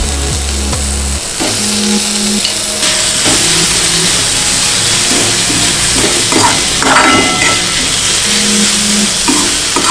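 Chopped tomato frying with a ground garlic and chili paste, stirred in a pan: loud continuous sizzle with repeated scraping strokes of the spoon, close by and alone.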